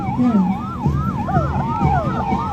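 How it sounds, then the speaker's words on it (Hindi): A loud, close police siren wails in rapid rising and falling sweeps, with a vehicle engine rumbling underneath, at a Republic Day parade in Nainital. "सीपीयू मिलकर सायरन बजाते हुए"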